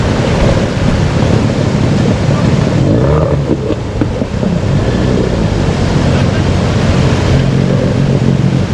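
Two-cylinder 40 CV outboard boat engines run during a surf launch on a South African beach, a loud continuous roar mixed with crashing waves and heavy wind buffeting the microphone, while people talk faintly.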